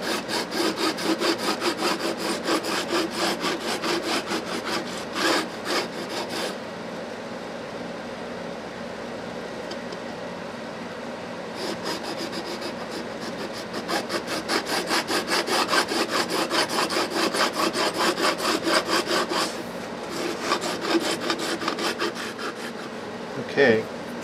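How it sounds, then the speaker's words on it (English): A file grinds excess metal off the fret ends of a First Act PW580 electric guitar, a close, raspy scraping in rapid back-and-forth strokes that comes in long bursts with brief pauses between. "It grinds down all the extra metal that's hanging over the end."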